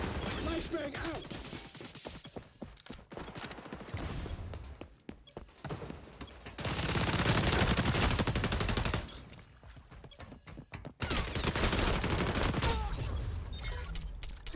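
Gunfire in the shooter video game XDefiant: dense, rapid automatic bursts and scattered single shots, with loud stretches of sustained firing between quieter gaps.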